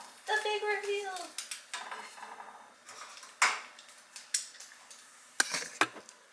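Fried bread, egg, ham and cooked tomato being plated for breakfast: scattered clinks and scrapes of utensils against a plate and pan, irregular and close, with a brief sizzle at the start and no talking.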